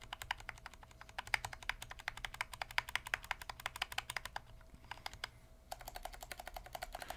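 Rapid clacking keystrokes on a Cod67 mechanical keyboard, close and crisp, with a brief pause before a final run of typing; no talking.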